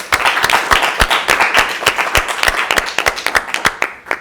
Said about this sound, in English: please help me and join me to give them a well-deserved warm applause